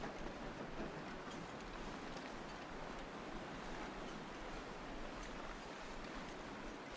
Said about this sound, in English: I call this the creek. It's more like an actual river.